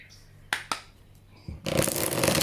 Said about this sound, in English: give this deck a good shuffle after option number 1.